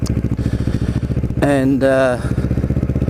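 A Ninja motorcycle being ridden, its engine pulsing in rapid regular beats up close, revving to a higher whine for about a second in the middle before settling back to the throb, with a single spoken word.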